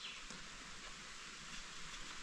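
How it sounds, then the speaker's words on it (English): Light, misty rain falls steadily as a faint, even hiss of fine drops on surfaces around an outdoor firewood shed build site, with no talk. "rain like this is basically like mist"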